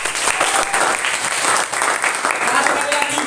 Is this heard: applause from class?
yes